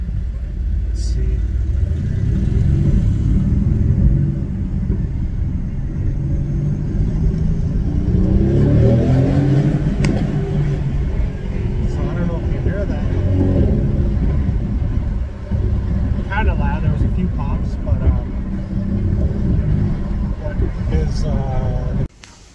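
A 2019 Mercedes-Benz GLC63S with its secondary catalytic converter deleted drives through a tunnel. A deep, loud engine and exhaust rumble runs throughout, swelling as the revs climb and fall, heard from close by inside the car.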